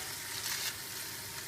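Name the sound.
meat browning in a pan for stifado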